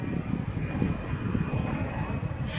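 Aircraft passing overhead outdoors, a steady low rumbling drone that holds evenly throughout, fairly close and continuous with no talk.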